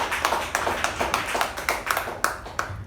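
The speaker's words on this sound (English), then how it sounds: "please give a huge round of applause for this person" A small meeting audience claps in a clear, fairly steady rhythm, individual hand claps distinct and close, thinning toward the end.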